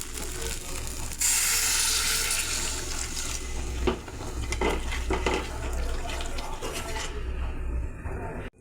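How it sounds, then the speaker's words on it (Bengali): Water pours into a duck-egg curry for the gravy, a loud, steady splashing rush with a few clanks of the pan, ending abruptly. "এখন আমি ঝোলের জন্য জল দিয়ে দেব"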